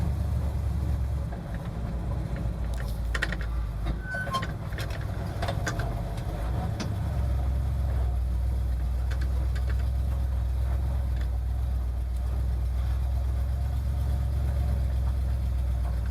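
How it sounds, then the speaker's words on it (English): A 1971 Ford F250 Highboy engine idles steadily with a low, even rumble close by. A few faint knocks and clicks come early on, and no one speaks. "The red Ford is going again, running great, just as usual."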